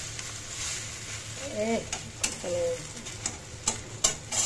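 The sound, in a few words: flipping and stirring egg noodles frying in a pan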